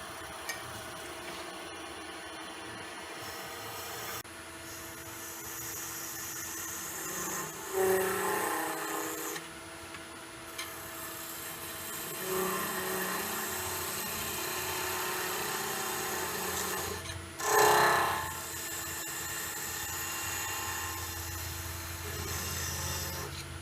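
A woodturning lathe cuts a tenon on the back of a turned piece at a demonstration, giving a steady low whir with rough scraping and rubbing passes of the tool. It is moderately quiet and close, and two brief louder bursts break the steady sound.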